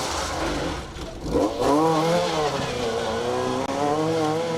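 A rally car driven hard at the Alan Healy Memorial Rally 2023, its engine revving and rising in pitch as it accelerates, loud and close, with a brief dip and surge midway.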